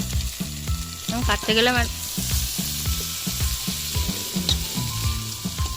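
Chikni greens cook with onion, garlic, potato and eggplant, sizzling loudly in a pan while a utensil stirs in a steady repeated rhythm; someone speaks briefly over it.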